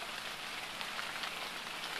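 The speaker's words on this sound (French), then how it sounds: "Cinquième jour, il pleut." Steady rain pours onto a garden in Agdad, Morocco, a dense, even patter of drops on surfaces filling the whole stretch with no voices.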